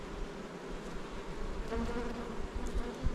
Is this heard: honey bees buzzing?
yes